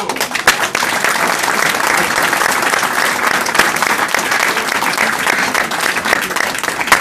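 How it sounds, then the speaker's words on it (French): Audience applauding a departmental party secretary at a National Front award ceremony; dense, loud, sustained clapping from a large crowd running steadily throughout with no speech over it. "un engagement tel qu'il mérite les applaudissements"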